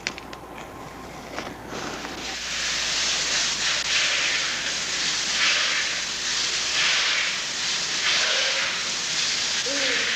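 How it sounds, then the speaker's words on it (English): High-pressure water sprays used as a body treatment hiss steadily and loudly, a broad continuous rush that starts after a quieter couple of seconds and holds to the end, with no talking. "High-pressure sprays are used to stimulate the body"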